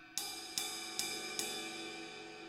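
A drumstick strikes the edge of a ride cymbal four times at a steady, moderate pace, each hit a bright, washy crash that rings on and overlaps the next, with no voices.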